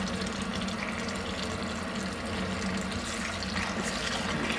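Water swishes and churns continuously in a sink as raw wool is pushed down and washed, a steady close wash of liquid sound with no speech.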